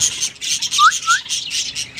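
A hand-tame pet red-vented bulbul gives a couple of sharp rising chirps close by, set against a steady backdrop of other bird twittering.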